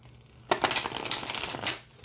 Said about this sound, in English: So let's see how it shuffles.